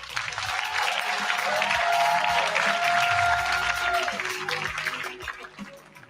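Audience applause greets an award presentation, the Changemaker of 2025 award at a women's event, as a large crowd claps loudly and steadily for several seconds before tapering off, with some tonal background sound running underneath.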